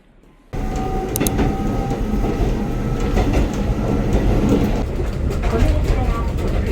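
A train runs on rails toward Kuroishi in winter, with loud steady rumbling and rhythmic clickety-clack from inside the carriage, rising in abruptly after a moment of quiet; a faint voice can be heard in the background.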